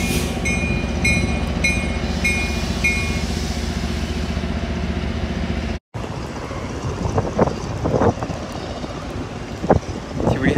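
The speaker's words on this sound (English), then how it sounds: "Here we have southbound Tri-Rail." A southbound Tri-Rail commuter train passes close by with a loud, steady rumble, its horn sounding in short repeated blasts at the start, followed by clattering wheels and rushing noise.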